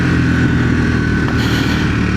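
Triumph Speed 400 motorcycle in second gear with throttle and clutch being worked, a loud steady single-cylinder engine drone close by, without much change in pitch.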